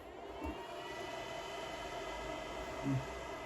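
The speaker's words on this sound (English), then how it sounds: "The 2 fans already are running, and then it's starting." A steady, even whirring of the cooling fans in a TP-Link TL-SG1218MPE network switch starting up runs without a break, a constant airy hum at moderate level with no voices.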